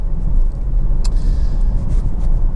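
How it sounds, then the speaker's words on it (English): Honda Civic 1.6 i-DTEC diesel engine running at a steady, smooth idle, a close, loud low rumble throughout with a faint brief click near the middle. "engine of course starts absolutely instantly and settles to completely smooth, even idle"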